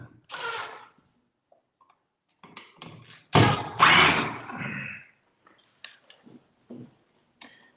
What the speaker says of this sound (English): Then I grab the old drill